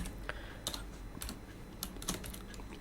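Python code is being typed on a computer keyboard, a quiet close patter of irregular keystrokes with a few sharper clicks spread across the stretch.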